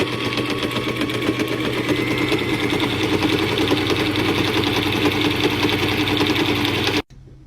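A sewing machine stitches fabric for a pair of shorts, running in one steady, loud, fast-chattering whir at close range for about seven seconds before stopping abruptly.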